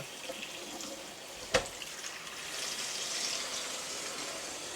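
Cold water runs steadily from a kitchen tap in a soft, faint stream, with one brief knock early on.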